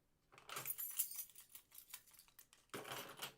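Someone shakes a bunch of keys close by, a quiet metallic jangle in bursts with a short pause before a final shake, and no talking over it.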